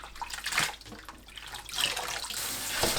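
Cold water splashes and runs over blanched oyster mushrooms and water dropwort as they are rinsed, in uneven close surges of running and sloshing water.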